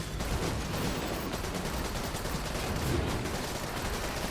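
Gunfire rattles in the video game Seraph, a dense, continuous stream of rapid shots and clatter mixed into busy game sound, steady and loud for the whole stretch.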